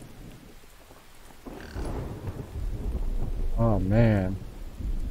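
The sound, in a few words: rain and thunder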